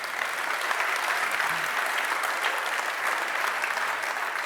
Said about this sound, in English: And you can give a round of applause to yourself here.